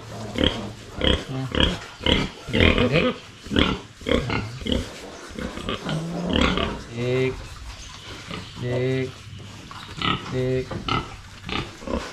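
Sows on a pig farm grunt and oink in repeated short bursts at close range, mixed with a person talking through much of the scene.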